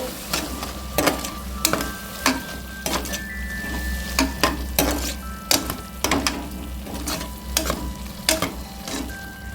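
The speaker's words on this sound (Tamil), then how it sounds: "இஞ்சி பூண்டு போட்டுக்கலாம். இது கொஞ்சம் வதங்கிட்டு" Ginger and garlic sizzle and fry in a pot for mint rice, with a steady frying hiss throughout and repeated stirring scrapes at a regular pace, close and moderately loud, no talking.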